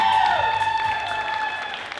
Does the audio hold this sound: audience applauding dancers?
yes